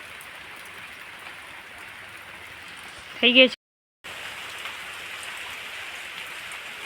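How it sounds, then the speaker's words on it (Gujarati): Rain falls steadily on a village farm among large trees, a soft, even patter with a voice speaking briefly over it before a short silent gap, after which the rain continues. "વરસાદ અત્યારે ચાલુ થઈ ગઈ"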